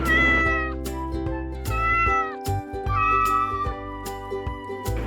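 A cat meows several times in drawn-out, wavering cries over a low steady musical hum, no voices.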